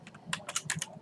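Names being typed on a computer keyboard, a quick, close run of about ten light key clicks in an uneven rhythm, quiet and alone.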